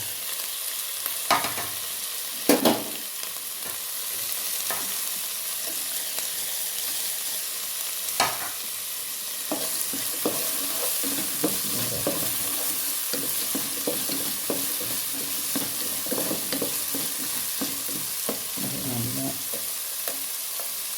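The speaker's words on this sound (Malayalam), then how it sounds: "ഇനി നമ്മൾ അത് അരിഞ്ഞ് വെച്ച തക്കാളിയും ക്യാരറ്റും രണ്ടും ചേർക്കട്ടെ." Chopped tomato and carrot sizzle steadily in a hot pan while a spoon stirs them, with sharp scraping knocks early on and a continuous close, fairly quiet frying hiss throughout, no talk.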